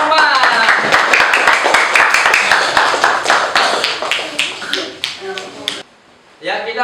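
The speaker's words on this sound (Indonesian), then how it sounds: "Ya, tepuk tangan untuk kelompok 4." Classroom applause for group 4, a dense run of many hand claps close by from a group of students, ending in a short silence before a final burst of clapping.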